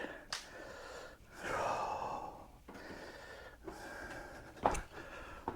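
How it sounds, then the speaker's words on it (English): Heavy, close panting in long drawn breaths, repeating in a slow steady rhythm with a sharp gasp near the end. "You hear me panting like a dog."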